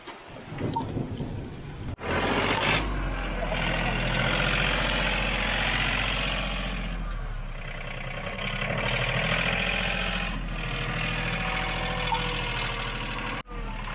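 A tractor engine, started for a quick wheel rim fix, turns over and settles into a loud, steady low rumble that runs continuously close up, with a brief dip midway and a sharp clunk near the end.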